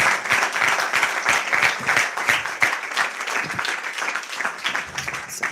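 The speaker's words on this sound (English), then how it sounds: "I think that class deserves another round of applause." Audience applause after a class at a live devotional Bhagavatam lecture, a steady round of clapping from a sizable crowd sustained throughout with an even, dense texture.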